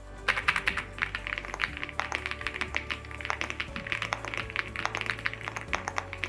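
Rapid, steady clacking of keys on an Aula F108 full-size mechanical keyboard with linear switches, close and crisp, with quick uneven bursts of keystrokes and no talking.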